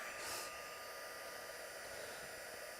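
A heat tool or hair dryer blowing steadily on a liquid watercolour craft card, a constant loud whooshing hiss with no pauses, heard alone.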